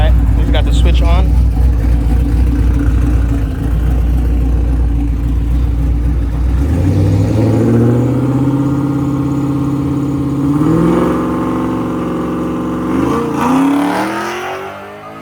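A 1998 Camaro street car with an LS1 V8 runs loud and close, a rough idle giving way to rising revs that climb and fall several times, while people talk over it.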